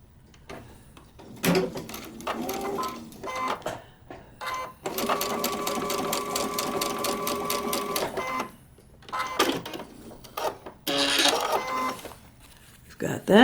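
Sewing machine stitching a paper-pieced quilt block: several short rattling bursts and one longer steady run of rapid needle clatter, close up, with handling clicks between the runs.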